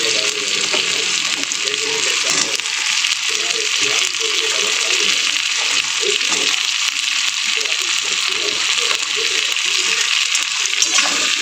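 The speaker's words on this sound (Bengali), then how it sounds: "চলো ডাঁটা আলুটা আমি একটু ভাজতে দেবো" Stem vegetables and potato fry in spiced oil in a home kitchen, giving a loud, steady sizzle that runs unbroken throughout with no talking.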